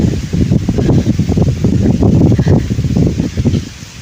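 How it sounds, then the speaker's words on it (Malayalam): Strong, gusty wind blows before rain while waiting outdoors for a school vehicle, a loud, continuous roaring buffet close to the microphone with no talking. "മഴക്കോളം ആയി വരുന്നത് ഭയങ്കര കാറ്റ്"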